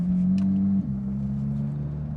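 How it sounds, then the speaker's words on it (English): Loud, low droning exhaust of a Porsche GT3 with its valves closed, cruising through a neighborhood; a steady rumbling tone that dips slightly in pitch partway through and carries on continuously. "This exhaust is way too loud,"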